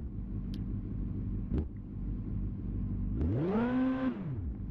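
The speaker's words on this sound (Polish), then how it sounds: "ten silnik pięknie chodzi, nawet na niskich obrotach tak pięknie bulgocze" A tuned 2002 Yamaha R1 motorcycle engine idles with a low, steady burbling rumble up close, a couple of sharp clicks, then one quick throttle blip that revs up and falls back to idle.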